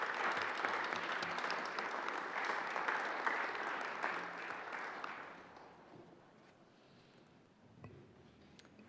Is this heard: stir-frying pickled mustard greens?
no